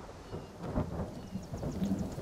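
Thunderstorm with steady rain in the survival video game The Forest, low rumbling thunder rolling under a constant hiss of rainfall, moderately loud throughout with no talking.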